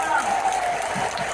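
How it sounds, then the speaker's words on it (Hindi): An audience applauding for a team at an RCM motivational event in Noida, steady clapping throughout with a voice talking over it. "मैं चाहूंगा आप टीम के लिए ताली बजा"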